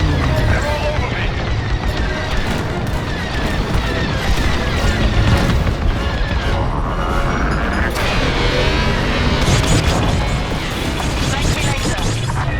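A starship corvette blows up in the Star Wars Squadrons video game, dense rumbling booms and crashing blasts layered over continuous engine roar and laser fire, with voices talking throughout.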